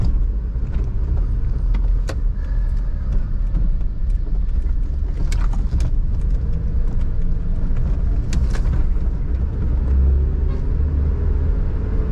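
A Suzuki Jimny 1.3 driving through the city in second gear behind a truck, with a steady loud interior engine and road rumble and scattered clicks and rattles throughout.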